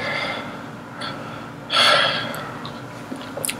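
A person draws one audible breath, a short breathy inhale and release rising above a steady room hiss and then fading, with no talk over it.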